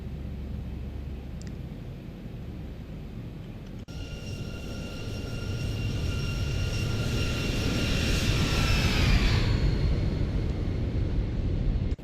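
A Boeing 737-800 in a flight simulator descends on final approach, a steady jet roar with whining engine tones that slide downward as it swells slightly louder toward the end.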